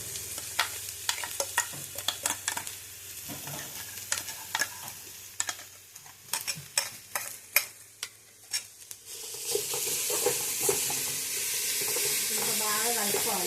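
Green chillies sizzle in a pan for bendakaya pulusu while a spoon stirs and taps against the metal in a string of sharp knocks, then a louder, rushing hiss of frying takes over.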